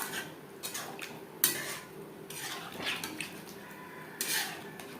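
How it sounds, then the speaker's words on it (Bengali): A spoon stirs pointed gourd (potol) in a metal pan over a medium flame, giving irregular close scrapes and clinks against the pan over a soft sizzling background. "মিডিয়াম ফ্লেমে আরও 2-3 মিনিট নাড়াচাড়া করে নেব"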